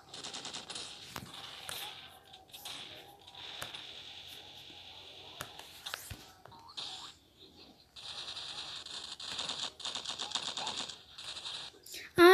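Rapid bursts of video game gunfire crackle in quick rattling volleys, with short pauses between strings of shots and a louder burst at the end.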